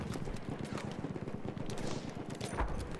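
Rapid gunfire in the World War I shooter Battlefield 1, a dense stream of sharp cracks and bursts repeating steadily over a noisy battlefield mix, fairly loud throughout.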